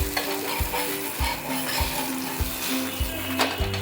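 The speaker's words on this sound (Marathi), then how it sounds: "दुसऱ्या साईडनी पण आपल्याला तो 1 ते 2 मिनिटं आता भाजून घ्यायचा आहे" Uttapam roasts on a hot griddle with a continuous sizzle, while a utensil scrapes and taps in a steady rhythm about every half second. No one talks.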